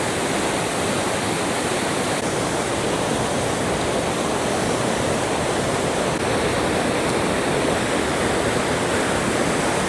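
Waterfall in Glen Nevis, Scotland, pouring in a steady, loud broadband roar that holds unchanged throughout, with no voices over it.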